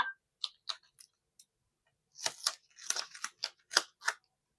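Scissors snipping through a sheet of planner stickers, close and crisp, a few scattered single cuts followed by a quicker run of sharp snips, no talking.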